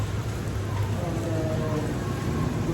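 Steady rain falls in a hometown, a constant close hiss of drops on surfaces that holds evenly throughout the short stretch.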